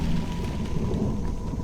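Steady, dense rain with a deep rolling rumble of thunder during a storm, loud and continuous throughout with no voices.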